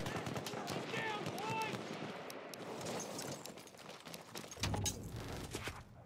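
Rapid gunfire bursts from a Halo Incursions tournament match, crackling at mid distance under a continuous commentator's voice and game ambience, with a heavier thump near the end.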